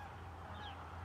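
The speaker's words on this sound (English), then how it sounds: "And do you hear the birds singing?" A goose honks in a park at sunrise, a few nasal calls at moderate distance over a steady low hum and faint background birdsong.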